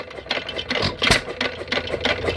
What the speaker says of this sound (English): As the engine drops speed, the weights come in and move the lever over.